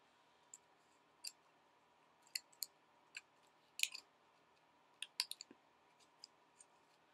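Scissors trimming candy wrapper paper for a picture frame, with small, sharp, close snips coming in sparse, irregular bursts against a quiet background and no talking.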